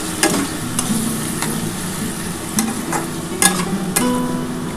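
Water going into a pan of mustard-based fish curry with potato and onion stalks, a low steady sizzle with scattered clinks and stirring scrapes, no talk.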